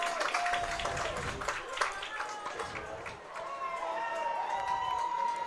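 A crowd of fans cheers and claps at a high school football game, with a broad, distant wash of applause and cheering that carries on throughout while an announcer talks over it.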